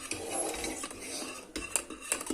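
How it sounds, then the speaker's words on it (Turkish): A spoon scrapes and swishes around a pot as thick tiramisu pudding is stirred over low heat, with soft clinks of metal against the rim, close and steady. "Güzelce karıştıralım"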